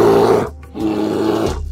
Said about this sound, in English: Black bear.